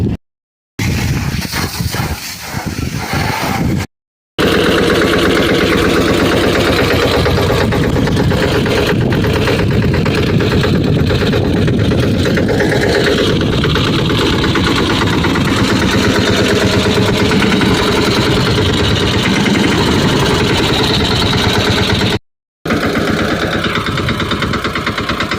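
A water sprayer's engine runs continuously while a tractor is washed, a loud, rough, steady drone with rattling texture that fills nearly the whole stretch, broken only by a few brief cuts.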